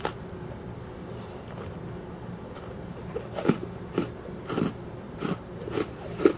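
Several sharp, crisp crunches from a paper-thin dark chocolate cookie with white chips being bitten, spaced a moment apart after a quiet start, close and clear.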